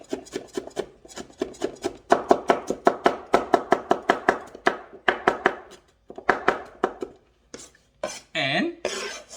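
A knife chops a carrot finely on a board in a quick, steady run of close, crisp strikes, pausing briefly near the end before a last few cuts and some handling noise.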